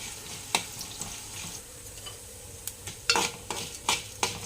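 Coriander seeds are dry roasted and stirred in a pan, giving irregular bursts of gritty rattling and scraping strokes against a quiet background, close by and with no talking.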